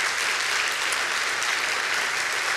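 A church congregation applauds during a Spanish-language sermon, the clapping dense, continuous and fairly loud across the whole stretch, without any speech on top.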